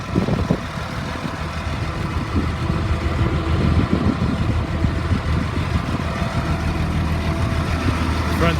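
A 2003 Blue Bird All American 72-passenger school bus engine idles after running about an hour, a steady, loud, low diesel rumble holding even throughout with no talking over it.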